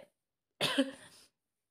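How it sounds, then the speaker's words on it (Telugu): A single close cough burst with a rough, throaty edge, loud and alone after a brief faint sound, lasting well under a second in an indoor home setting where the household is sick. "దగ్గు మాత్రం విపరీతంగా ఉంది"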